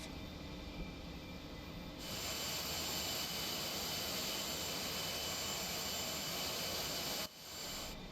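A-4E Skyhawk jet engine in the DCS flight game roars steadily while climbing after takeoff, a dense, loud broadband rush that swells stronger partway through and dips briefly near the end.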